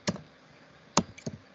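Three short, separated clicks of typing on a computer keyboard, close and fairly quiet, with silence between them and no talk.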